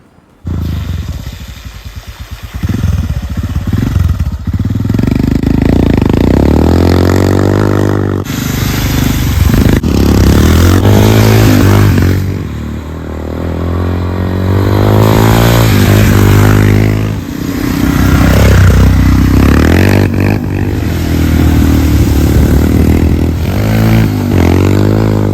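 A Royal Enfield Himalayan adventure motorcycle is ridden in the wet at around 60 mph, with loud, continuous engine drone, rising and falling revs, and rushing wind and road noise throughout.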